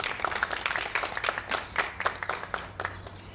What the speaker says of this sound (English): To give another round of applause for our two speakers.